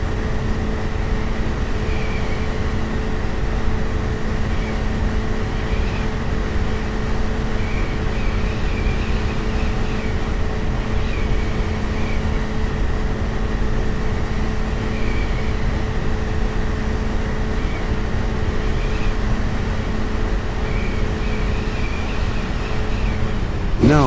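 Steady drone of an aircraft engine in flight in Microsoft Flight Simulator X, a continuous hum with constant tonal lines that holds level for the whole stretch without talk.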